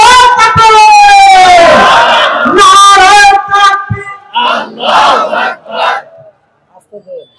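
A crowd at an Islamic sermon roars the takbir in loud unison, a sustained chorus of many voices followed by several shorter, separate group shouts that fade toward the end.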